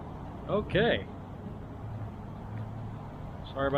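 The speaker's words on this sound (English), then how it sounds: "Sorry about the road noise." Steady low rumble of traffic beside a busy highway, with a continuous wash of tyre and engine noise under brief bursts of speech.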